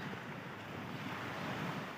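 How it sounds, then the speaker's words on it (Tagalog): Ocean waves at Patar Beach in Bolinao, Pangasinan, around dawn: a continuous soft wash of surf mixed with wind noise on the microphone, fairly quiet and unbroken, with no voices. "ang ganda ng karagatan ng Patar Beach sa Bolinao, Pangasinan"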